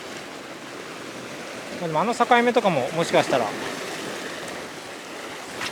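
Waves crash against concrete tetrapods along a Japanese shore in Ehime, churning up a muddy bottom at a sea bass fishing spot. The water makes a steady broadband wash throughout, and someone talks briefly over it near the middle.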